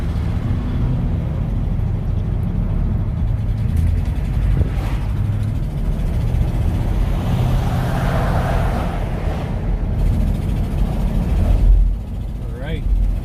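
A 1959 Cadillac is driven with its engine running steadily, a constant low rumble and road noise filling the cabin, with voices talking over it throughout.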